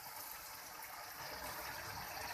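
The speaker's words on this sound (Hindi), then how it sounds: "अब इसके अंदर शामिल करेंगे हम पानी।" Water pouring steadily into a pot of pea and potato curry, a soft continuous gush and trickle heard faint and close with no talking.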